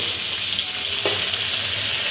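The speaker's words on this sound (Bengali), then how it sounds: "তো মাছটাকে আমি পাল্টে দিচ্ছি, যেহেতু ফ্রিজের মধ্যে ছিল, ভালো করে বরফ গলেনি" A fish that was not fully thawed from the fridge fries in a pan with a steady, loud sizzle, broken by one brief scrape as it is flipped partway through.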